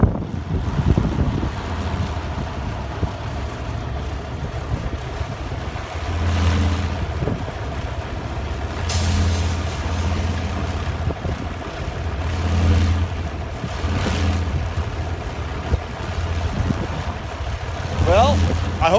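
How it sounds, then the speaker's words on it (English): A small wind generator spins fast on a windy day in Denver, its blades giving a continuous airplane-like drone under heavy wind buffeting on the microphone, with passing trucks in the distance. "I've never seen one that sounded like an airplane or a helicopter going right over your head"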